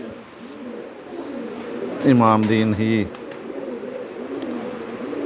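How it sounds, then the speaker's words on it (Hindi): An older female pigeon gives one close, resonant cooing phrase lasting about a second, while someone talks nearby. "कबूतरी है, इसकी देखें जी, ये ज़रा बड़ी उम्र की है।"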